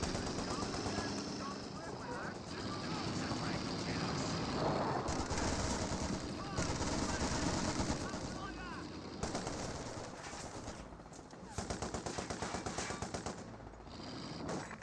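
Sustained machine-gun bursts from Vickers and MG42 positions in a Company of Heroes 2 battle, rapid rattling fire in overlapping streams with distant battlefield noise, under a commentator's continuous talk.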